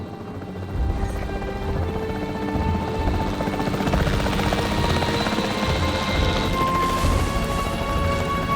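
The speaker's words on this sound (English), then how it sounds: "The priority needs to be tranquilizing it with the capture team chopper." A capture team helicopter in Jurassic World Evolution 3 keeps up a loud, continuous rotor thrum from start to finish, layered with rumbling game effects and a swell of music and noise.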